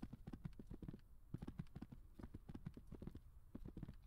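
Horse hooves clip-clop rapidly in the medieval combat game Gloria Victis, a quick steady run of hoofbeats, fairly close and with no talk over them.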